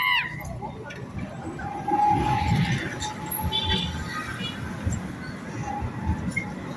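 Istanbul metro train running through a station or tunnel, a steady low rumble with faint metallic clinks and a brief high whine early on, continuous throughout with people talking faintly in the background.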